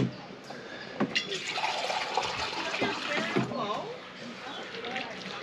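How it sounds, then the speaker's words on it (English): Water pours from a cup into a bowl of flour for homemade pizza dough at a campsite, a steady close splashing trickle with some clinks and handling noise. "we're going to put just under half the amount of water to flour."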